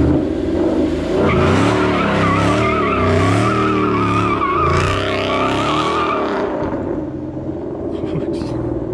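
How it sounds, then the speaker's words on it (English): Ford Mustang doing a burnout, engine roaring at high revs while the tires squeal in long wavering screeches, loud and close, easing off near the end. "Alright, so now I can officially say I did my first burnout."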